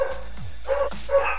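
Dogs in the Minecraft video game bark: a few short, mid-pitched yaps spaced out over steady background game hum, fairly quiet and without talk.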